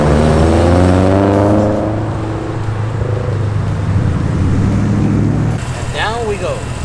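A car being test driven after repair rumbles and revs from inside the cabin, a steady loud engine drone with shifting gear tones, and a short bright squeal near the end.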